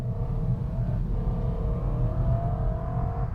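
A BMW E90 M3's V8 engine revs at around 4,000 RPM, a deep, continuous throaty drone with a rising harmonic whine, loud and close, with no talk over it.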